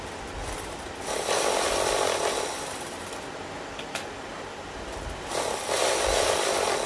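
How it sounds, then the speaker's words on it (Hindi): A sewing machine runs a double line of stitching on a double katori blouse. Two bursts of rapid, close mechanical whirring are separated by a quieter pause with light handling noises. "हम यहाँ डबल सिलाई लगा लेंगे।"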